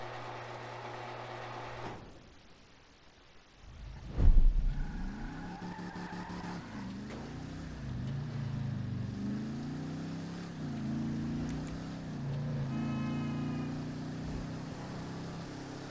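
A car drives in the GTA 5 video game, its engine note dropping after a thump, then droning and rising through several revving climbs as it accelerates, steady throughout.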